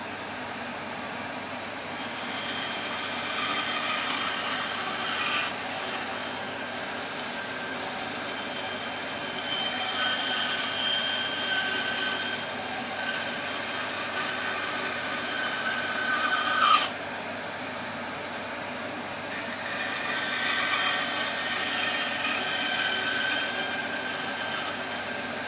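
Metabo BAS 261 band saw cutting wood while a workshop vacuum runs, a steady loud whooshing drone with a quiet rasping hiss from the blade that shifts slightly as cuts begin and end.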